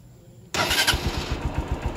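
A motorcycle engine fitted with a power upline tune fires up on a single start, catching instantly and settling into a loud, close, steady idle with a rhythmic pulsing putter.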